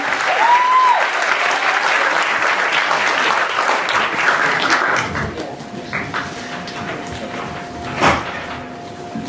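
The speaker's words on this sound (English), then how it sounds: "Clap as Peter comes to the mic." Audience at a spoken-word event clapping to welcome a performer to the mic, a dense burst of applause for about five seconds that thins into scattered claps and room noise.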